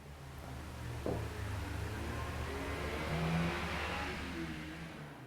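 A Honda Civic burnout, its engine revving steadily at mid pitch for several seconds with a brief rise near the start, heard alone at moderate distance without any voices.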